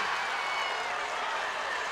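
A high school girls basketball state semifinal crowd roars and applauds steadily after a score, a dense, loud wash of cheering and clapping with no break.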